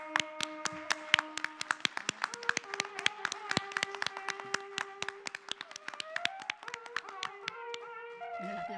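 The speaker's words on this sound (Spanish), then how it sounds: "el aplauso evidentemente es para Arguedas" Scattered, uneven hand claps ring out sharply from a small audience honouring Arguedas at a Peruvian cultural talk, with a sustained melodic tone running beneath and a voice coming in near the end.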